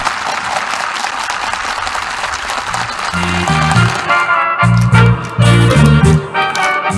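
Enthusiastic applause from workers and participants at a new-house handover ceremony in Munchon, continuous crowd clapping that carries on as loud music with drums and melody rises underneath partway through.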